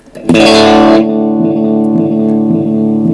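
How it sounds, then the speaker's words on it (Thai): A vintage delay effect pedal with feedback at maximum takes a bright, loud guitar attack. The note trails into thick, warm, continuously repeating echoes that sustain without fading. "ผมจะเปิดฟีดแบ็กสุดให้คุณได้ยินนะ"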